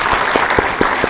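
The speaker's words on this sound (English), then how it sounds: "you deserve a round of applause from everybody over here" An audience at a valedictory ceremony for an airlines management certificate course applauds in steady, dense clapping that fills the whole moment.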